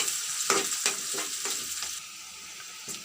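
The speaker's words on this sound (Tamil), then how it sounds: "இப்போ நம்ம வெங்காயத்தை போட்டு நம்ம வதக்க போகிறோம்." Onions sizzle and fry steadily in a hot pan while making bitter gourd thokku, with a few scraping stirs near the start, then a softer continuous sizzle.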